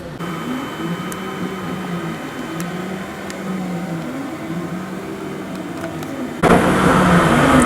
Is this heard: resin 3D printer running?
yes